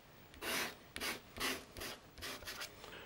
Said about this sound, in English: Right, we just scrape some of this again.